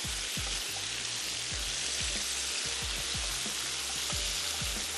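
Prawns lightly frying in a pan for creamy garlic prawns, a steady dense sizzle with soft crackles and occasional low pops, close and continuous throughout.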